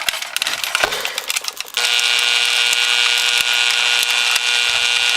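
A pulse-width-modulated power drill whirs at high pitch after a few clattering starts, settling into a steady buzzing whine with a faint periodic ticking.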